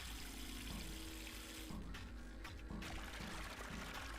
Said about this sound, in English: And now to turn on the water.